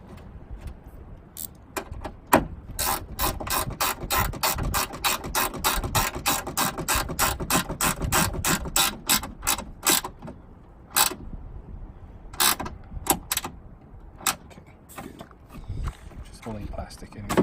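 A ratchet drives a screw back into a Toyota Sequoia door during lock actuator replacement, its rapid clicking pawl running in a steady burst near the mic, then trailing into a few scattered clicks and taps with quiet talk at the start.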